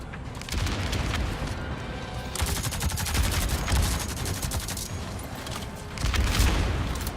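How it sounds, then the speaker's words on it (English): Grenade explosions in Avatar Frontiers of Pandora, loud and continuous, with dense rapid blasts and crackling bursts layered over heavy low rumbling. "This grenade situation is crazy."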